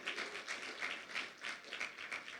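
Congregation in a church service applauding, a dense steady wash of many hands clapping at moderate loudness throughout, with no voices over it.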